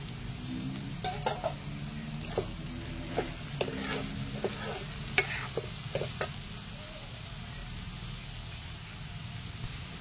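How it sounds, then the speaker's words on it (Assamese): A spicy mixture sizzles quietly in a pan while a spoon stirs it, with sharp clacks and scrapes clustered in the first several seconds before the frying settles into a steady hiss. "আৰু এইখিনি দি মই অকণমান সময় লৰাই ঢাকন দি ভাজি ল'ম"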